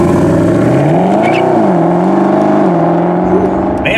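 A Mercedes SLS AMG sports car engine revs and accelerates steadily, its pitch rising and falling as gears shift, loud and close throughout.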